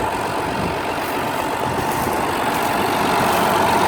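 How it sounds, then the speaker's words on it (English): Oliver 1655 FWA tractor with a 283 cubic inch direct-injected Oliver Waukesha diesel, running steadily at close range with a continuous low engine drone and no talk. "This is an Oliver Waukesha engine."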